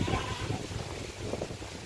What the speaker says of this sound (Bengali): আমাদের এদিকে প্রচুর বাতাস হচ্ছে।